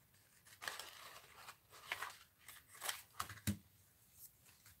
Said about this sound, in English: Let's just cut little hands out here.